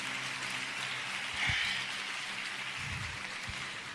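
A church congregation applauding during a sermon, a broad, even wash of many hands clapping at a distance, steady throughout with a few low thumps.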